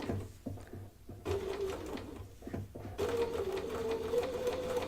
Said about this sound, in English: we're going to stitch right along here on the right side of that seam and come right off that